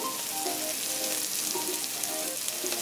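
Onions, peppers, garlic and pimento peppers sauté in hot oil over medium-high heat, giving a steady, close crackling sizzle that runs unbroken throughout with no voices.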